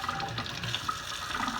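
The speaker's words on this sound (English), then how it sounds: "I'm going to keep it on the spoon, and I'm going to run some cold water on it." Cold tap water runs steadily over a hot boiled egg held on a spoon, a brief, soft, continuous splashing hiss.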